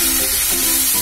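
Kashmiri chili powder, poppy seeds and tomato paste sizzle loudly in a pan for a Bengali chital fish kofta, a dense continuous frying hiss heard up close with no voices.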